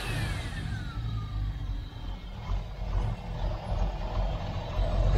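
A cold Range Rover Classic soft-dash, once a royal protection car, idling unevenly after misfiring, with a steady, close low engine rumble and loose mechanical clatter throughout.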